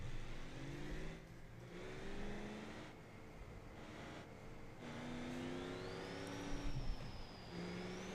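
Racing video game car engine pulling hard in fourth gear, a steady droning tone that climbs in pitch with brief dips between shifts, loud and continuous with no talking.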